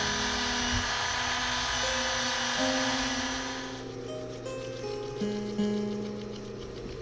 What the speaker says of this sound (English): then I finish rounding it off with this palm sander